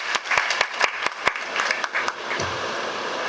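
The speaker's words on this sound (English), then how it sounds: "So we have a big round of applause for Rashmi ma'am and all the panelists." A conference session audience applauds the panelists, starting with a few sharp, separate claps that build into a fuller, continuous round of clapping.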